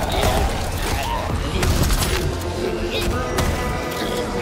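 Shotgun fire in Call of Duty: Black Ops 6, with repeated sharp blasts and thuds in a dense, noisy game mix while a voice talks over it.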